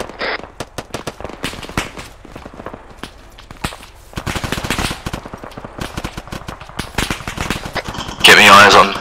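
Automatic machine gun fire in the military shooter ArmA 3, rapid bursts of shots near and far with a long loud burst at the end, mixed with footsteps and talking voices.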